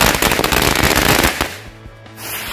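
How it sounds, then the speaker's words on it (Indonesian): A mercon Betawi firecracker, one of three pieces in a pack, goes off in a loud, rapid crackling burst of dense bangs lasting over a second, then fades into quieter ringing and faint tail sounds. "ini kita nyalain mercon Betawi"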